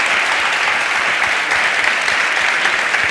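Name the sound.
audience applause after talk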